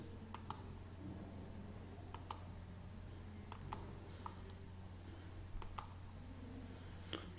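Sharp, quiet computer mouse clicks while drawing frame cable elements in SAP truss design software, heard as several separate clicks spaced irregularly over a low steady hum.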